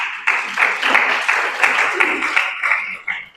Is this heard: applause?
yes